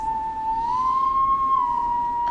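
A single sustained whistle in the video game Killer Frequency, one steady tone that bends slightly upward and back down for over two seconds, loud and clear with no talking.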